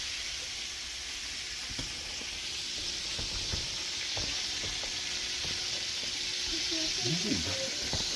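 Butter sizzles hot in a pan before morel mushrooms go in, a steady close hiss and crackle that runs unbroken with faint clinks in the background.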